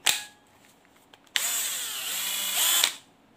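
A Hilti EZ7410 3.6V cordless drill gives a short blip, then runs for about one and a half seconds as a close, loud, steady whine that climbs in speed before it stops.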